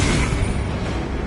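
A Confringo spell blast in Hogwarts Legacy erupts as a loud, dense burst of roaring noise. It fills the whole brief moment without letup.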